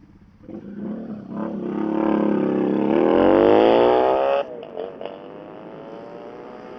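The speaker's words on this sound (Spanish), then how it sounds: "este muchacho tiene una moto grande." A big twin-cylinder motorcycle engine roars past at close range on a night ride, rising in pitch and volume as it approaches, then cutting off abruptly and fading.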